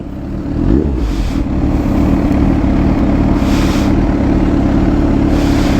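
Kawasaki ZH2 motorcycle engine droning steadily and loudly while being ridden, a continuous close-up roar with slight wind rush that holds even throughout.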